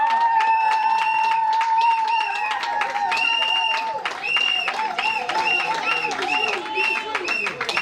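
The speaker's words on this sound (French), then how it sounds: "moi je vais demander à l'ensemble de vous acclamer très fort avec les cris de joie" Wedding reception guests clap and cheer loudly for the couple, steady dense applause mixed with shrill whistles and joyful shouts throughout, the crowd close and continuous for the whole stretch.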